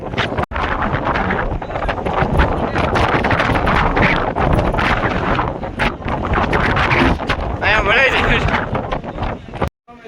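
Strong wind high on Girnar mountain near Junagadh buffets the microphone in a continuous loud roar with gusty surges and brief drops, and voices are faintly present beneath it.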